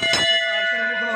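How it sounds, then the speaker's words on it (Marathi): A temple bell at the Jivdani hilltop shrine in Virar, struck once in the rain, gives a sharp clang and then a clear, sustained metallic ring that slowly fades. "घंटी आहे इथं. ज्यांना वाजवायची ते वाजवतात तर मी पण वाजवतो."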